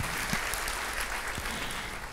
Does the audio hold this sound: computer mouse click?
no